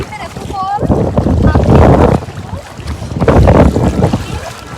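Sea waves wash up onto a beach at Alibaug, a steady broadband surge that swells and recedes twice, close and fairly loud, with wind buffeting the microphone and a voice briefly heard at the start.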